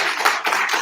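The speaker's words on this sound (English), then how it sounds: "a round of applause, please" Audience applause at a university policy and governance conference, a brief burst of dense clapping that fills the room loudly and evenly with no talk over it.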